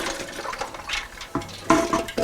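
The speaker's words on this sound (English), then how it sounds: "so we're going to dump that mixture back into this pot" Chilled brine mixture is dumped from a container back into a pot of turkey brine. Splashing, gurgling surges come in uneven bursts, loudest toward the end.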